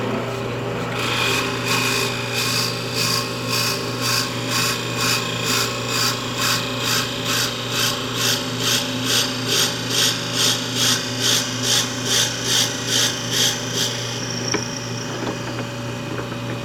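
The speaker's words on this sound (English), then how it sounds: "Maybe a little faster drilling." A pen blank spins on a lathe while being drilled, a loud close whine with a rapid pulsing rasp repeating about once a second for roughly thirteen seconds before easing off.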